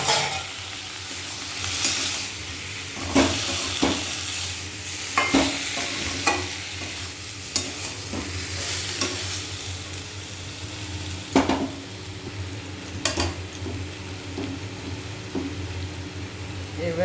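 Spice paste fries and sizzles steadily in a pan while being stirred, with a continuous close hiss broken by scraping strokes and occasional utensil knocks against the pan.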